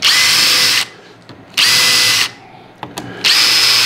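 A power drill drives screws into a clamp-on infeed table for a table saw, three loud sustained whirring bursts separated by short pauses, with no talking.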